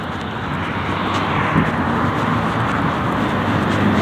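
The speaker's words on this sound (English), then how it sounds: "he was about to speed up with that muffler" A car with a loud muffler rumbles and roars steadily as it speeds up nearby, a continuous broadband engine noise with no talk.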